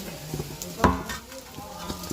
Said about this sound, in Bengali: চিড়াটা এখন ভেজে নিচ্ছি।